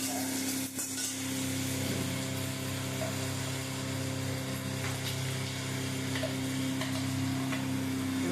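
Spices and chopped tomato sautéing in a pan for mutton kosha, a soft continuous sizzle under a steady low hum, with a few faint stirring scrapes near the start.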